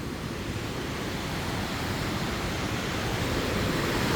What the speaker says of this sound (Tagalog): Yung hampas ng hangin galing doon mga idol, pagbagsak ng tubig dyan sa talon